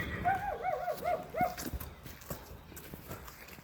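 An English thoroughbred mare for sale near Manas airport in Bishkek clip-clops with a quick run of hoofbeats, brief and moderately close, fading into quieter background noise without speech.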